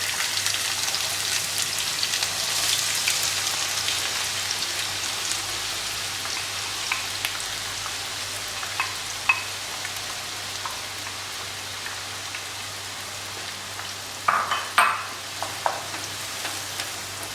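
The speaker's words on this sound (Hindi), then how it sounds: "हमारा जो घी है गर्म हो चुका है। अब इसको हम प्याज को हल्के ब्राउन कर लेंगे।" Onions frying in hot ghee, a dense, hissing sizzle like steady rain that holds throughout, with a few louder stirring clatters near the end and no speech.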